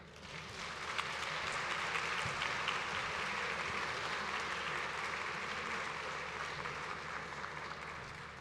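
An audience in a conference hall claps for an arriving speaker at a Palestine Day event, a sustained dense wave of applause, steady and full throughout, with a few faint voices mixed in.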